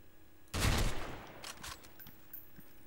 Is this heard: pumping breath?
no